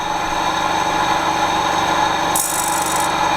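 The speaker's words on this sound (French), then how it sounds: "je vais talonner maintenant. Ça veut dire que j'approche ma meule à la dent" Steady rasping grind of a grinding wheel against a saw tooth being sharpened, continuous and close, with a brief brighter scraping burst near the end.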